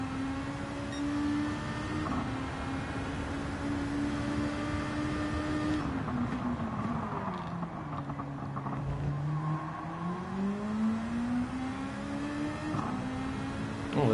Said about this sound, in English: there's that BMW exiting the pits